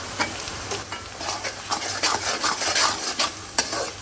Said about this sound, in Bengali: পেঁয়াজটা একটু লাল করে নিলাম